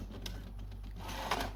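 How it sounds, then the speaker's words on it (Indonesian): A printer runs off a single page, its mechanism whirring with soft rhythmic clicks and a louder feed burst near the end, fairly quiet and close with no talk. "Printer berjalan guys"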